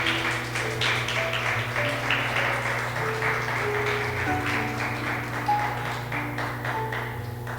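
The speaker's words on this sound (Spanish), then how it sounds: "Denle una ofrenda de aplausos al Señor" A church congregation gives a sustained round of applause for the Lord, steady dense clapping filling the room over a low hum with faint sustained tones, no speech.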